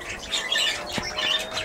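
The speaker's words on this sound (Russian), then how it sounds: "Давай, попугаев сниму." Parrots in an aviary give a busy mix of chirps and squawks, close and fairly loud, continuing without pause and with no talking.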